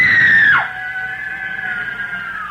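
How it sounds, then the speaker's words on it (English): A girl lets out a loud, shrill scream of rage in a radio drama adaptation of Les Misérables, a single sustained shriek that breaks off abruptly, followed by a quieter, lingering tone. "The girl, screaming with rage,"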